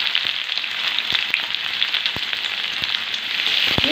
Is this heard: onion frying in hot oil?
yes